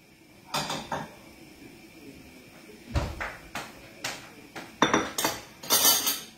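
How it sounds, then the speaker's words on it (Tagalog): A lid goes onto a cooking pan while making Filipino sautéed bean sprouts, with scattered close metallic clinks, clanks and a rattling settle of the cover, quiet between the hits and no talk. "takpan ko lang siya sandali"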